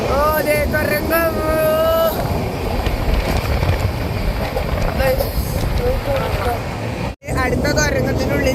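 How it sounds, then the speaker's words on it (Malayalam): Fast passenger train rushing through mountain tunnels on the way to Kashmir, a loud continuous rumble and rattle with wind roar and brief whistling tones, a sudden drop near the end, under a person's talk. "നല്ല ഫാസ്റ്റാണ് ട്രെയിൻ."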